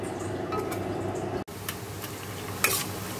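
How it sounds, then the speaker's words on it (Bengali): Onions fry in a pan with whole garam masala for chicken curry, giving a steady, soft sizzle with light stirring, a brief dropout midway and a short scrape near the end. "তো এই চিকেনের পেঁয়াজ ভাজা হচ্ছে।"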